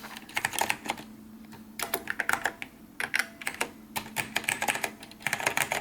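Brisk typing on a Xerox 6085 Daybreak keyboard, close and clear, with irregular bursts of key clicks separated by short pauses.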